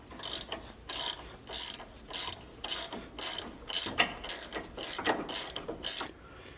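Ratchet wrench loosening sway bar bolts on a Jeep JLU, a rapid series of about a dozen loud, close metallic clicking bursts in steady rhythm with brief pauses between strokes.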